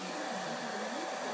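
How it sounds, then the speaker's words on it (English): A hair dryer blows continuously, a loud, steady airy roar with no pauses. "And then now, what I do? Hair dryer."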